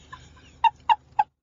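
Three short, evenly spaced pigeon calls, close and distinct over a quiet background, with no talking.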